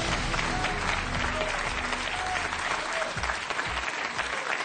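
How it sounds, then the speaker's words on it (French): A game show studio audience and contestant applauding, a dense sustained burst of clapping that fills the whole moment at close range. "Il vous applaudit."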